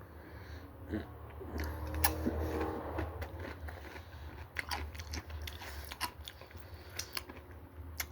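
Crunchy hard taco shell bitten and chewed in a bowl with beef, onions, cheese, sour cream and tomatoes; soft close crunches and chewing, repeated and faint, with no talk.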